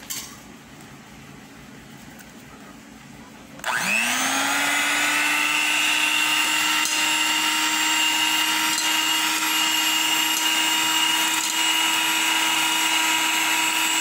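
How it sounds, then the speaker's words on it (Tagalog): Two eggs beaten in a bowl with an electric mixer for a no-bake ube cake: the motor switches on a few seconds in and holds a steady, loud whirring hum to the end, alone with no talk. "Lagay natin yung 2 eggs. At i-beat natin."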